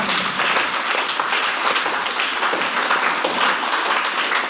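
An audience applauds at a business seminar, a dense, sustained burst of many hands clapping at steady loudness throughout, with no talk over it.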